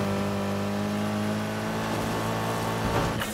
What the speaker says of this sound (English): It's got a nice engine sound to it.